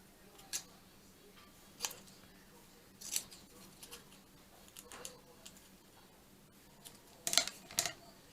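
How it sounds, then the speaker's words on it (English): Fabric scissors snip in quiet, sharp clicks, a dozen or so scattered irregularly, some in quick pairs, close and faint in a still room. "not my fabric scissors."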